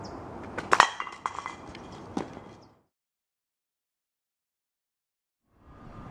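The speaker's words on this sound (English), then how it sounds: "Ma'am, I brought you your drink with ice cubes." Ice cubes clink against a glass holding a drink, a quick cluster of bright taps close by in the first couple of seconds, followed by near silence.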